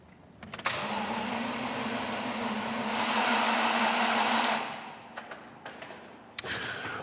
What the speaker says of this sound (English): So I'm just going to crank it over again